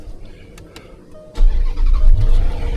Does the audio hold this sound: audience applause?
no